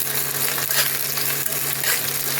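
Chopped garlic, onion and capsicum fry in a pan for chili pasta, giving a dense, steady sizzle with soft stirring scrapes and a low hum underneath.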